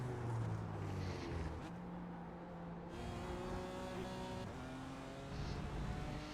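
A BMW GT4 race car engine in a racing game at Interlagos revs and climbs through gears, with a sharp drop around a shift midway before the steady, loud engine tone returns.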